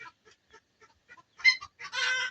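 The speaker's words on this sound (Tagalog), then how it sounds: "May mga manok pa siya." Farmyard chickens at a countryside home in Midsayap, North Cotabato, clucking in short separate bursts nearby, ending in a louder run of excited squawking.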